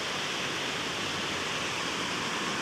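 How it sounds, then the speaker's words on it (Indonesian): River stream flowing along a bank lined with bamboo erosion barriers, a dense, steady rushing hiss of water, close and continuous with no voices. "Ini aliran sungai kita."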